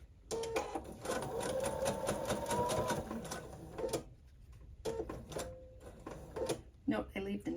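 A sewing machine stitches folded fabric strips for a binding, with close whirring runs broken by short pauses and clicks as the fabric is adjusted.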